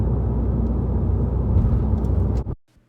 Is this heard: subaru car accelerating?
yes